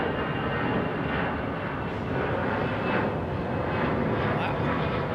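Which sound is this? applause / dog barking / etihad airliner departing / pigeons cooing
etihad airliner departing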